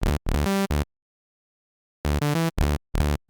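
A synthesized lead melody, a remake made to resemble an original track, plays as short bright harmonic notes in two bursts separated by a second of silence, loud and alone.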